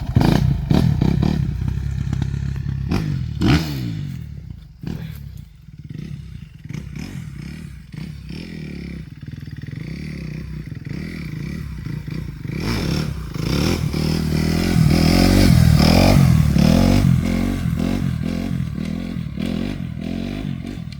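A small beginner motorcycle passes slowly, its engine note rising and falling through several gear changes over about twenty seconds, swelling louder near the end with some clatter.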